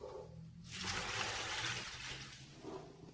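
Three cups of water pour steadily into a pot for about two seconds, a soft splashing gush that rises and then tapers off.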